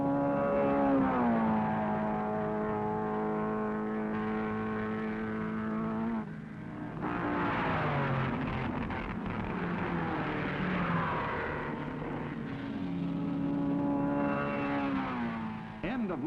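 Late-1950s sports racing cars, Ferraris and Maseratis among them, roar down the mile-long airport straightaway at Sebring during the 12-hour race, with sustained engine notes rising and shifting as cars pass under a commentator's voice.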